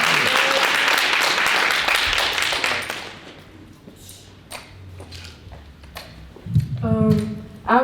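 Applause for a student at a school signing day, a burst of crowd clapping that fades out after a few seconds, followed by scattered taps, shuffling and a voice starting to speak.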